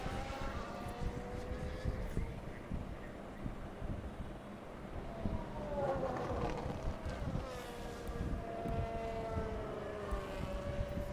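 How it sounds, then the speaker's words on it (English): Formula 1 cars lapping a track in the F1 Manager 2022 racing game, their high engines wailing and rising and falling in pitch as they pass, over a steady rushing background. "from this camera angle, the engines kind of sound good"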